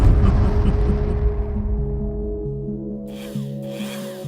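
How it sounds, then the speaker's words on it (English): A Dremel flex shaft rotary tool with a coarse ball nose burr carves a basswood block, producing a close, continuous grinding whine with rough rubbing texture that fades toward the end. "I've already begun hewing basswood from the block with my Dremel flex shaft and a very coarse ball nose burr"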